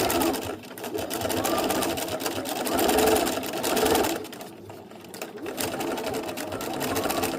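A sewing machine stitching fabric for a collage print-and-stitch piece, a continuous rapid mechanical whir that speeds and slows in long runs, close and steady.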